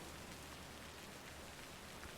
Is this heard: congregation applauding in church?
no